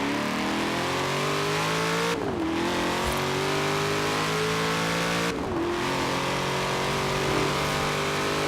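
A 650-brake-horsepower car engine in the Forza Horizon 4 racing game revs hard and climbs through the gears, with two sharp upshift dips breaking a continuous loud, close engine whine.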